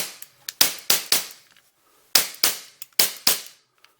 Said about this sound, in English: I'm just going to hold down the slide catch and shoot off a few